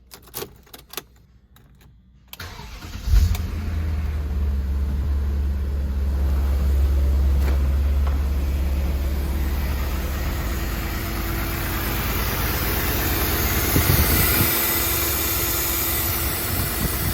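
A car engine idles, then rumbles loudly and steadily while driving around Southern California, a low sustained drone with road and wind noise close by.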